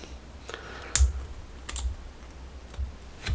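Sharp plastic snips from clippers trimming Deathwatch Terminator model parts off the sprue, a few separate cuts spaced over a few seconds, close and fairly quiet, with no voice.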